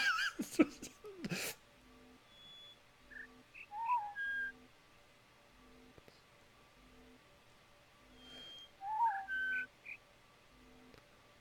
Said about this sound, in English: no, the bird chirp is a long note first